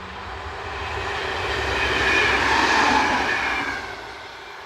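A Dutch railways train unit running past, a rumbling, rushing roar of wheels and carriages that swells as it nears, peaks in the middle and fades again, with no voices.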